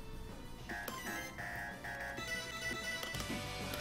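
A phone rings in short repeated electronic tones over faint background noise from a fighting game, three or four brief chirps in quick succession.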